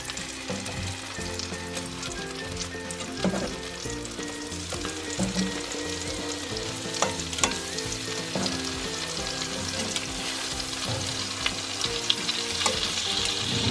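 Pork chops fry in margarine in a pan, giving a steady, close crackling sizzle that runs throughout with small pops and occasional stirring or utensil knocks and no talk.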